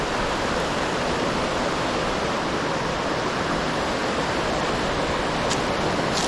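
Dick's Creek Falls roaring steadily as heard from the top of the drop, a dense, unbroken wash of rushing water that stays loud and even throughout, with no voices.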